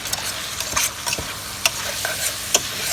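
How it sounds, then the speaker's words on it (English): A spoon scrapes and clinks around a pot of tomato and butternut squash soup, with irregular sharp knocks against the sides over a soft steady simmer. "I'm going to stir this up."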